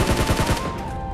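Rapid automatic gunfire in the mobile battle royale game PUBG Mobile, a loud close burst of several quick shots that fades into a ringing tail.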